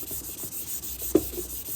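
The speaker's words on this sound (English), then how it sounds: "This is just a sanding sponge." A sanding sponge is rubbed over a painted, still-warm upcycled cowbell or rolling pin in short, quiet, repeated scrubbing strokes, with one slightly louder scuff in the middle.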